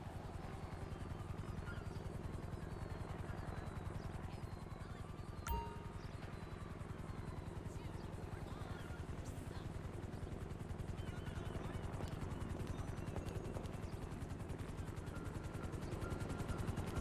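A Grand Theft Auto helicopter thumps steadily through its landing, its rotor drone continuous and fairly loud, with a single sharp metallic ding partway through.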